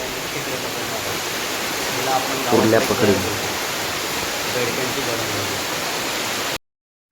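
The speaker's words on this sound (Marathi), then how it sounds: "पाऊस पण एवढा आहे बघा" Heavy rain and a rushing stream fill the air with a steady, dense hiss, while a voice speaks briefly partway through before the sound cuts off.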